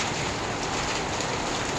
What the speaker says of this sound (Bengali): দেখেন কিভাবে শিলাবৃষ্টি হচ্ছে আমাদের এখান দিয়ে